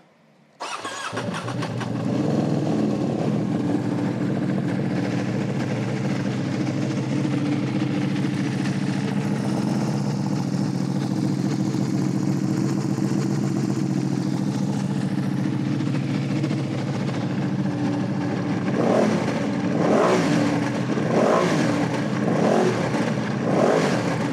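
A Ducati Panigale V2 motorcycle fitted with an Arrow slip-on exhaust and an upmap tune fires up and settles into a loud, steady idle, then blips the throttle in a series of sharp revs near the end, heard close with no talk.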